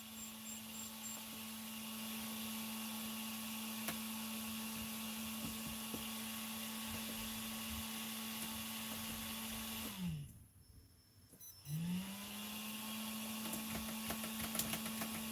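Small brushless motor with a Mod 1 gear grinding away, a steady close whine that holds at one pitch, dies down briefly partway through, then spins back up.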